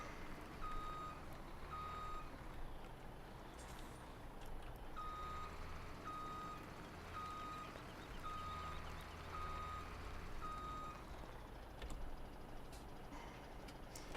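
A truck reverse alarm beeps in a steady repeating pattern inside Farming Simulator 17, sounding over a constant low engine rumble as the truck backs an A trailer up to hitch; there is no talking.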